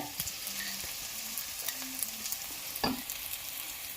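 Garlic cloves and cinnamon sizzling in hot oil for a vegetable kurma, a soft steady fry with a few sharper crackles and spatters, alone without talk.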